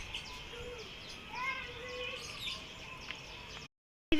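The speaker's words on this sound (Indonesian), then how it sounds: "Ini nih, wah burung-burung." Birds at a birdhouse in a garden give soft, scattered chirps and calls at moderate distance, and the sound cuts out briefly near the end.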